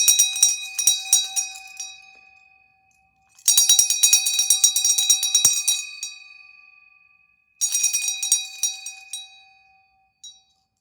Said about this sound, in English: I'm gonna ring it now.